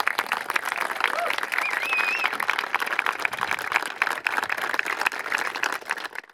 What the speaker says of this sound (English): I'll ask for one more round of applause for them